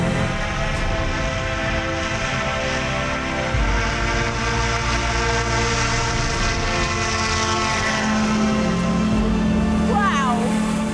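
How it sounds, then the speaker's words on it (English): A flying car takes off from a runway with a loud, steady engine and propeller drone that rises in pitch as it climbs. The roar stays close and continuous throughout. "We're ready to take off."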